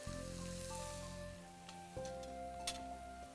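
Food fries in a pan, giving a faint, continuous sizzle beneath steady tonal hums and occasional light ticks and clicks.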